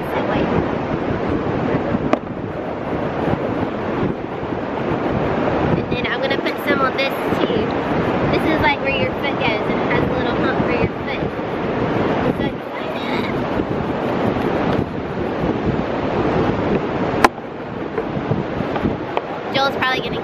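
Strong wind buffets the microphone at a beach with surf rumbling underneath, a loud continuous roar with gusty swells and brief voices over it.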